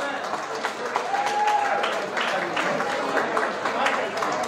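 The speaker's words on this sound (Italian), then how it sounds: "Applauso questo, non sta morendo qualcuno." An audience at the Miss Parade 2022 beauty pageant claps steadily, a dense wash of applause lasting a few seconds with voices carrying over it.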